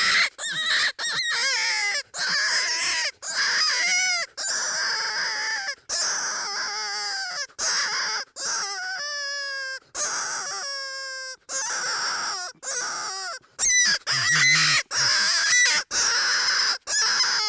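Flextone Dying Rabbit predator call blown open for more volume to lure coyotes, a series of loud, high, wavering squeals and wails in rapid bursts with brief gaps between them.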